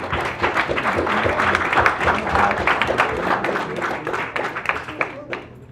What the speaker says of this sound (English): Round of applause for that one, guys.